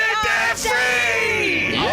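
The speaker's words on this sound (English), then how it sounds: "Let's hear a debt-free scream." A crowd at a live debt-freedom event lets out a loud, sustained collective scream and whoops that fill the whole moment, with a voice rising above the cheering near the end.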